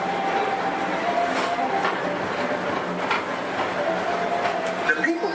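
The Disneyland People Mover ride vehicle runs along its track with a steady, close rolling rumble and a faint mechanical whine, plus slight rattles and a murmur of background voices.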